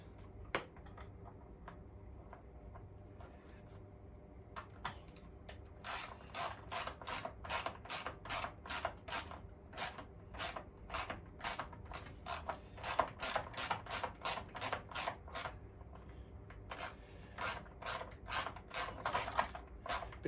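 A threaded part is being turned into a 1982 Honda Melody scooter, tight on the threads after near cross-threading, giving a quiet run of rapid ratcheting clicks in bursts, near and alone.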